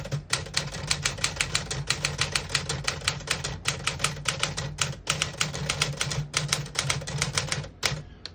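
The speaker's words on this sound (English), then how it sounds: "I'll type a sentence on the next line." Keys clack rapidly on a 1958 Smith-Corona Clipper portable typewriter, a close, steady rhythm of sharp strikes with a brief pause near the end and no speech.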